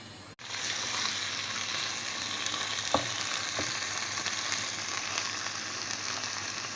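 Onions and minced meat fry steadily in a pan, a continuous close sizzle with a couple of brief stirring knocks, no talking.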